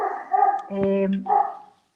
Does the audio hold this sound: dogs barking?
yes